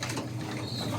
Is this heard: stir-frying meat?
no